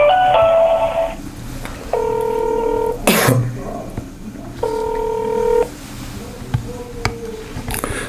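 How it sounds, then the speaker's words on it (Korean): Telephone line tones for a radio phone interview: a ringback signal sounds in two long, evenly spaced bursts, loud and clear, followed by a sharp click, a cough and low background noise. "자, 그럼 지금 정경목 위원과 전화 인터뷰를 지금부터 또 한번 시작을 해보겠습니다."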